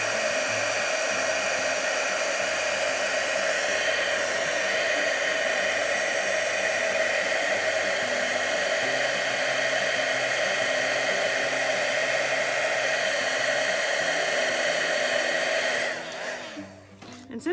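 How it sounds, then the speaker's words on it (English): A heat gun melts embossing powder on a Christmas card, a continuous loud, steady blowing whir held close for about sixteen seconds before it is switched off and winds down. "So I'm using a heat gun here to emboss."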